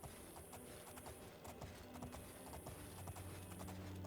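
Horse hooves clip-clopping in the video game Oblivion, a steady, close rhythm of hoof beats running through the whole clip with no talking.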